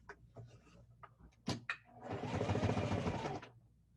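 Home sewing machine stitching through twelve layers of fabric in a heavy-duty job, with a steady close whirring run of about a second and a half after a few clicks and knocks.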